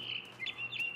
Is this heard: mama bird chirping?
yes